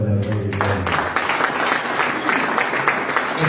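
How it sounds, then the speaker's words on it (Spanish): Church congregation applauding during a Rosh Hashanah service, a steady dense wash of clapping from many hands that starts just after a sustained tone and continues throughout. "Aplaudan al Rey de Gloria."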